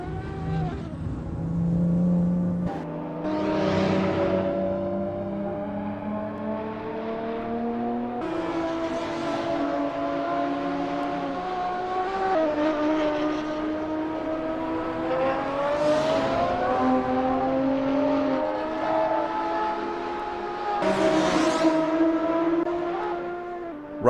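Race cars warming up at the Nurburgring GP circuit in a racing game: steady, loud engine drones with rising and falling pitches from several cars overlapping, with revs swelling as cars pass by.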